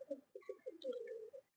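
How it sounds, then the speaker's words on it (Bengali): A pigeon coos at a pigeon loft, several soft rounded calls close by in quick succession over about a second and a half, alone with no talking. "এই দেখুন পায়রাটা দেখুন"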